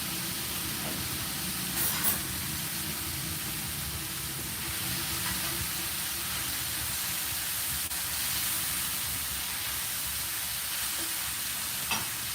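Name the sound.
greens frying and popping in a hot pan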